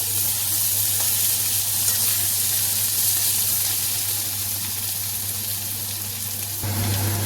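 Potatoes frying in oil in a wok for a bhetki fish curry with potatoes, a loud continuous sizzle that stays even and close throughout and shifts slightly near the end, with no voices.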